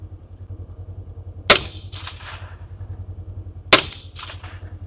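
Two loud, sharp rifle shots from a 300 AAC rifle during a feral pig hunt over open wheat stubble at night, spaced about two seconds apart, each cracking close by and trailing off in an echo over a steady low engine-like hum.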